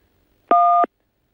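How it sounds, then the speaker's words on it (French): A single telephone keypad tone for key 1 sounds on a France Télécom voicemail line: one clean, steady two-pitch beep lasting about a third of a second, with silence before and after. "Si vous êtes muni d'un téléphone, appuyez sur la touche 1."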